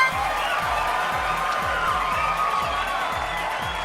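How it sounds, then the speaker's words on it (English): A crowd cheers and whoops in the Deal or No Deal: Secret Vault Games video game, layered cheering effects with rhythmic thumps underneath, steady and fairly loud. "The crowd sound effects just stack here with every correct answer you give too"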